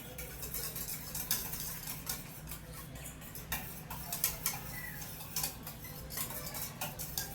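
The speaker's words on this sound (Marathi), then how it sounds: "आता याला आपण मस्त मिक्स करून घेऊया" Homemade Khandeshi chili pickle is mixed in a bowl, giving quick, steady ticking clinks and scrapes of a utensil against the bowl. The sound stays close and busy throughout, with no talking.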